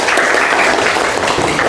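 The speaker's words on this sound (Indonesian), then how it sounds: "Oke, tepuk tangan untuk semuanya." A room full of students applauds together in a school lesson, loud steady clapping filling the space evenly from start to finish with no voices over it.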